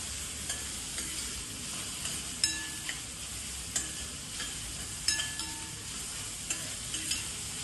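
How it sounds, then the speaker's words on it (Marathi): Finely chopped onion frying toward golden brown in a pan: a steady, moderately loud sizzle with occasional scraping stir strokes, no voices. "हा बारीक चिरलेला आपण कांदा घातलेला आहे आणि तो थोडासा गोल्डनिश ब्राऊन कलरचा होऊन द्यायचा आहे."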